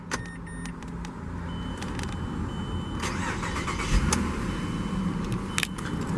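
A 2013 Mazda CX-9 Grand Touring is started with its integrated turn key, giving key and switch clicks followed by a steady engine hum that comes up close and holds at an even level.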